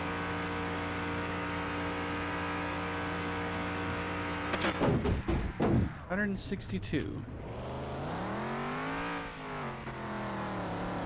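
A DC Typhoon car in a video game, its engine droning steadily and then revving up and down in sharp bursts while driving, with a voice talking over part of it.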